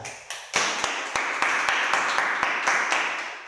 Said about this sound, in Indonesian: Tepuk tangan buat Mbak Rita.